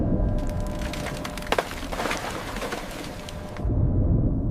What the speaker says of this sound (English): Its reinforced hull smashing through multi-year ice to keep the port open.